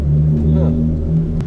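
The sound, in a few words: straight pipe Hyundai Genesis engine revving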